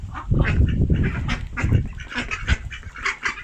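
Ducks quack repeatedly in a busy, overlapping chorus, close by, with bursts of honking calls throughout.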